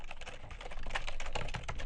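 Close, fast typing on a computer keyboard during a JavaScript coding session, a steady dense patter of key clicks with no talking.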